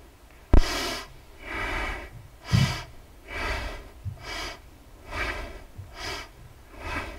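Rhythmic breath work in a Kundalini yoga session, with about eight strong nasal exhalations repeating roughly every 0.8 seconds, close and fairly loud, with a sharp onset near the start and no speech.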